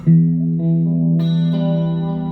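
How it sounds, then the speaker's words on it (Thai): A clean electric guitar chord rings out with a shimmering chorus effect from a Zoom G1X multi-effects pedal, followed by two more chords that sustain smoothly with no other sounds. "อันนี้เป็นแบบว่า คลีนคอรัสนะครับ มีคอรัสด้วย"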